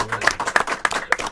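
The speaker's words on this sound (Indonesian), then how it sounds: "Tepuk tangan dulu buat beliau." A small audience at an Indonesian film talk show claps in a brief, rhythmic burst, about five distinct, evenly spaced claps close by.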